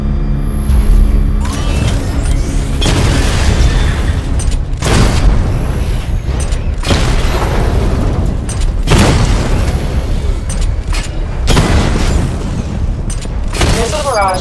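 Targets blowing up during a missile-barrage weapon test in Batman: Arkham Knight, loud booming explosions repeating every couple of seconds over a constant dense rumble, with a voice speaking intermittently.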